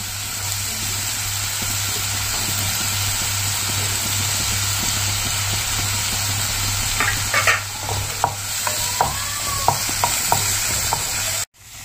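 Tilapia masala with onions stirred in a pan, a steady sizzle over a constant low hum, then a run of spatula scrapes and clinks near the end before a sudden cut.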